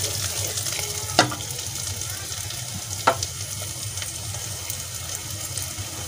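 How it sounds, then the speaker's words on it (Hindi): Light-brown onions fry with spices in a pan for karela pyaz, a steady close sizzle broken by two sharp clinks of a spoon against the pan, with no one talking. "प्याज हमारी लाइट ब्राउन हो चुकी है, अब मैं इसके अंदर मसाले डालूंगी।"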